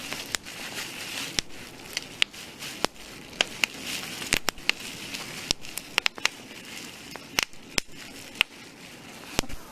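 Bubble wrap being popped and rustled to mimic a crackling campfire: scattered sharp pops in an irregular rhythm over a steady papery crinkle, close and moderately loud.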